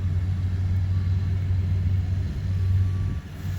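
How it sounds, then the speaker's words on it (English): A vehicle with freshly cut, notched tires drives down a road, giving a steady low engine and road rumble close by, continuous and even throughout with no talking. "Now we're just gonna drive her down the road a little bit"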